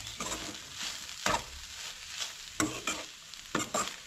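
Vegetables sautéing in a pan are stirred with sharp scrapes every second or so over a constant background sizzle, heard up close.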